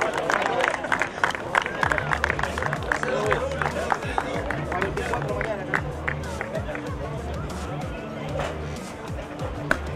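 Crowd clapping for the fifth-place driver at a Citroën Competición Clase B race podium ceremony, a dense patter of claps under an announcer's amplified voice and general crowd chatter.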